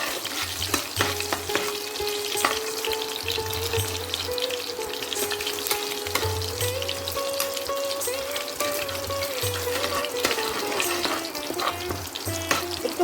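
Young jackfruit fries in a pan while being stirred, giving a continuous close sizzle with scraping and a faint pulsing hum underneath.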